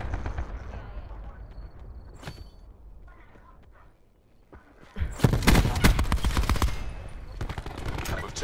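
Gunfire in a shooter video game: quieter shots and clatter at first, then a dense, loud burst of rapid automatic fire that keeps going, with a voice talking in the mix.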